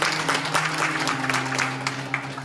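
A crowd at a school event applauds the school's founder and principal with sustained, fairly loud clapping, while a low sustained musical tone hums beneath it.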